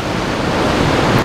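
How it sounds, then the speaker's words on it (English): Ocean waves at Riomaggiore on the Italian coast make a loud, steady wash of surf with broadband noise throughout, close by and with no voices over it. "just the sound of the waves,"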